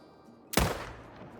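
A single sharp hunting-rifle report from a .375 Magnum in the Call of the Wild hunting game, a sudden loud crack with a short decaying tail, heard alone.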